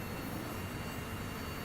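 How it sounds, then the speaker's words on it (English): Jet aircraft engine in the Sea Power naval combat game, a steady, loud broadband roar with no breaks, filling the whole moment without speech. "I'm trying to get away from that engine. It's really loud."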